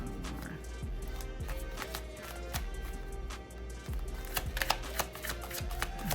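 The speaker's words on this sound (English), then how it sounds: "Let's shuffle up these some more." Tarot cards being shuffled by hand, a run of soft riffling flutters and light taps repeating steadily at close range over a faint low background hum.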